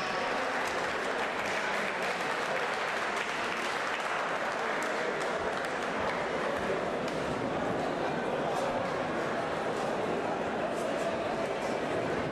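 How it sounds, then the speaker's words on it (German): Sustained audience applause for a boxer after a middleweight final at the Hesse boxing championship, an even, continuous roar of clapping throughout with faint voices mixed underneath. "Applaus auch für Enis Belhatsch"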